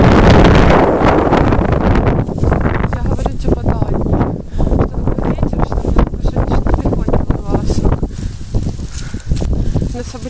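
Strong autumn wind buffets the microphone in continuous roaring gusts, loud and close, with faint voices underneath.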